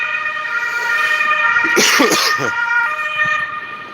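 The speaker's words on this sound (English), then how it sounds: "And that's the sound of that siren." A European emergency vehicle siren wails on a Vienna street with a steady two-tone pattern, loud and nearby, while a brief burst of voices and a cough-like noise break in mid-way.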